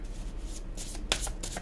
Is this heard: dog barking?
no